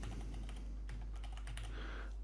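Rapid, light keystrokes tap on a computer keyboard in a quiet room, a faint steady patter of clicks over a low electrical hum.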